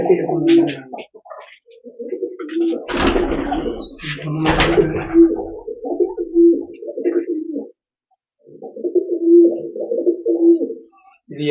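Domestic pigeons coo repeatedly in a home pigeon loft with soft, throaty, rolling calls that recur close by, broken by a burst of clattering movement, and someone speaks in between.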